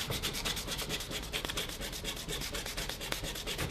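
100-grit sandpaper is rubbed by hand over the body of a Nissan 350Z in fast, continuous back-and-forth strokes, a dense, close scratchy hiss with no talking.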